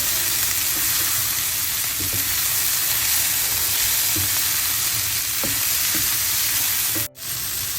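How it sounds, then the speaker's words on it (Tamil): Sliced curry chillies fry in a hot pan for a prawn curry, giving a loud, steady, close sizzle with occasional stirring taps, until the sound cuts off abruptly near the end. "வெட்டி வச்சிருக்கிற கறி மிளகாயை சேர்க்க போறேன்."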